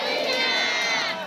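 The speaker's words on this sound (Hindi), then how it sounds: "सब ताली बजाएं यीशु मसीह के लिए, सब बोले जोर से हालेलुया" A church congregation at a Hindi-language healing and testimony service cheers and shouts hallelujah together. A dense, loud burst of many voices fills the space briefly.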